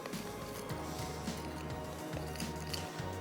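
Water is worked into flour dough for kulcha by hand, producing soft, wet squelching and squishing under a low background hum, in short irregular bursts close to the listener.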